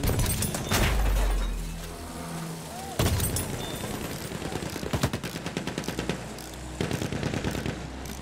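Gunfire aimed at the player in a desert battlefield video game: a rapid string of shots, a sharp crack, then a steady rhythmic burst of automatic fire, fairly close, with voices speaking under and between the shots.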